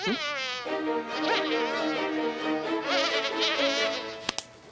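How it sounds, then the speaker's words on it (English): Mosquitoes buzz in a steady, close, high-pitched whine that wavers in pitch throughout, ending with a couple of sharp clicks. "Mosquitoes are insects, and bats love to eat them."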